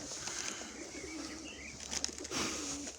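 Domestic pigeons coo softly and steadily near a loft, with a brief flutter of movement partway through and no voices.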